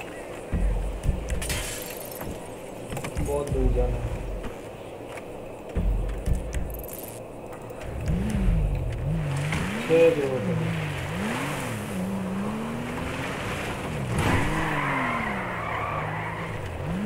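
A car in GTA 5 drives with a revving engine whose pitch rises and falls, then tires skid and squeal repeatedly in the second half, under occasional speech.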